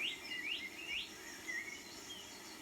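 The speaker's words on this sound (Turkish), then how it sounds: "Güzel kuş seslerinden ve ırmağın suyundan başka ses yok" A bird sings a few rising, whistled phrases over a steady soft outdoor hiss of river water, clear and moderately close, then trails off.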